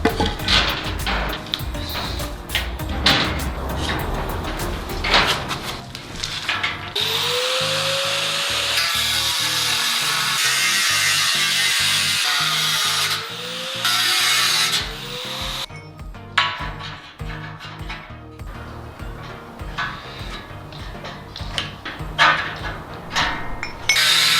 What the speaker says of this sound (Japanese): この穴開いてるところだけカットしていきます